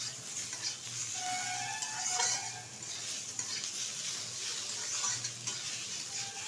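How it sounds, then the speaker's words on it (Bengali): Tomato, green chilies and chopped coriander are stirred in a pan for a while, a steady quiet sizzle with scraping of the utensil against the metal, close by and without talk. "বেশ কিছুক্ষণ কিন্তু নেড়ে চেড়ে নিয়েছি।"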